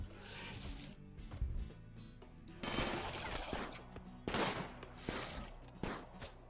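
Automated turrets in RimWorld fire in rapid bursts, several loud clusters of gunfire recurring through the stretch with brief gaps between volleys.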